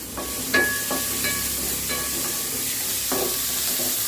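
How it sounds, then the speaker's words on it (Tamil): Sliced onions sautéing in a hot pan for Chettinad egg gravy, with a steady close sizzle and hiss and a few brief scraping stirs that punctuate it. "கொஞ்சம் வெங்காயம் வதக்கிட்டு கொஞ்சம் உப்பு லைட்டாக"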